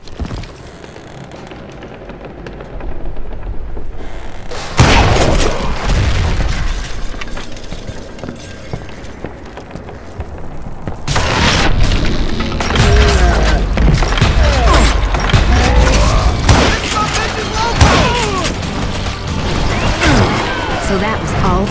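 Dynamite charges blasting in the Western shooter Call of Juarez: Gunslinger, with loud broadband crashes and debris rumble striking around five and twelve seconds, then lingering clatter and rumbling mixed with faint game sounds.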